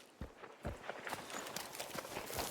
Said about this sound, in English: listen to Joe's footsteps